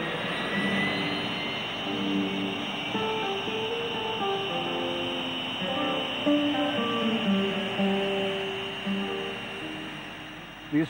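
A military jet aircraft flies past, a continuous loud engine roar with shifting tonal whine throughout, no talking.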